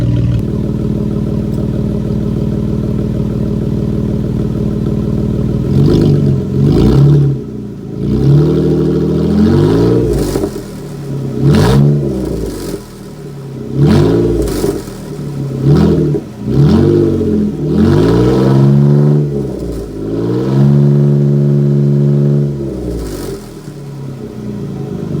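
A car engine with its muffler removed idles with a loud, raw rumble, then is repeatedly revved in short rising blasts that fall back to idle, close and unmuffled, without speech.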